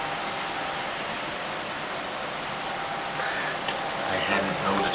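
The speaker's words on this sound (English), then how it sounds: "it always seems to be raining as well." Steady rain hisses in a broad, even wash throughout, with a faint murmur of voices rising near the end.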